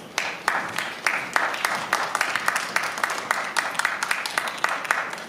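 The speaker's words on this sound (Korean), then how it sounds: "박수로 두 배우를 맞아주시기 바랍니다." Audience applause welcoming two actors onstage at a press call for the musical Phantom, a steady patter of many hands clapping at moderate loudness throughout.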